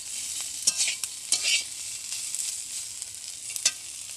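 Ivy gourd coated in ground white sesame frying in a pan, a soft steady sizzle broken by sharp clanks of a spatula scraping and stirring at irregular moments.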